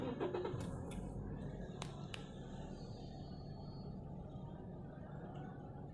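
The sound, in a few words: Toyota Altis car engine starting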